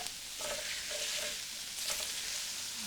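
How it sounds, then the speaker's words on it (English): Shiitake mushrooms stir-frying in oil give off a soft, steady sizzle with faint crackles and a couple of brief stirring scrapes, heard alone at low volume. "just fry with oil for now"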